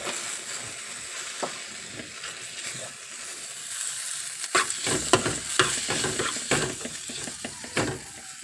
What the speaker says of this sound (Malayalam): നമ്മുടെ കറി ഇതാ നല്ല തിളച്ച് വന്നിട്ടുണ്ട് കേട്ടോ